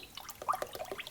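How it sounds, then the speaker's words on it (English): Water from a tap runs into a pot as it is filled to boil eggs, a soft, faint trickle and splash with a few small bubbling plinks, heard alone with no voices. "I loved the sounds the water made"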